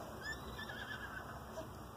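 A horse whinnies in The Legend of Zelda: Breath of the Wild, a faint neigh over steady hoofbeats and low game ambience that persist throughout.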